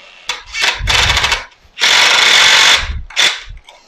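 An impact driver on its first speed setting drives a screw into wood for a vertical garden build, in several loud bursts of rapid hammering buzz, the longest about a second.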